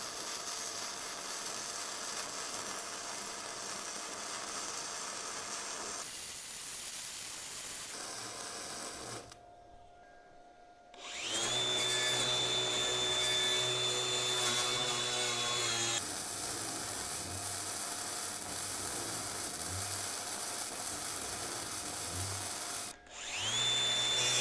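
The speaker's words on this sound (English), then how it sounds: "I'm going to weld on this frame gusset or fish plate, whatever you want to call it." An Arc Captain 145 Pro 110v welder runs flux core arc welding on a steel frame gusset, giving a steady loud crackling hiss that breaks off briefly, then resumes with a sustained buzz.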